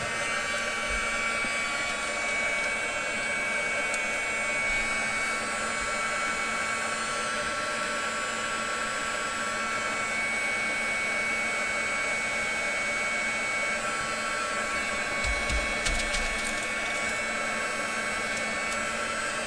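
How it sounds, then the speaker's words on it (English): A heat gun blows continuously on damp handmade paper threads, a steady close whooshing roar that holds level for the whole stretch with only faint handling knocks underneath. "I will just hit them with my heat gun real quick."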